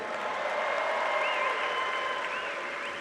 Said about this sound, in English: Can I get some round of applause for our soon-to-be graduates here?